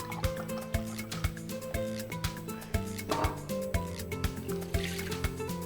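Dry white wine poured into melted butter in a pan sounds as close liquid trickling and splashing with soft drips and a gurgle midway, over a steady tonal kitchen background.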